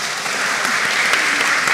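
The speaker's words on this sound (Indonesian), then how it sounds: "Lebih semangat lagi, tepuk tangan dulu." Dense, steady applause from an audience, many hands clapping together loudly and continuously.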